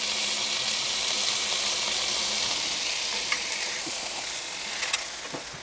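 Smash burger patties sizzle steadily on a hot griddle, a loud, even hiss that runs throughout with a couple of small pops and scrapes near the end.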